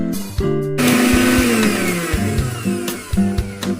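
A mixer grinder whirs in short pulses crushing spices with turmeric powder, motor pitch rising and falling, loud and close, with brief stops between bursts.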